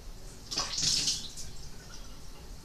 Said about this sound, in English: I put water on my face